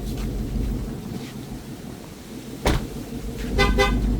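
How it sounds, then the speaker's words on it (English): A short car horn beep sounds once over the steady idling rumble of a Ford Mustang GT (S650) engine, followed by a couple of quick higher chirps near the end, as the car warns it was left running. "whenever you get out the car with it running, it beeps the horn like that"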